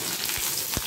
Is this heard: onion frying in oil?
yes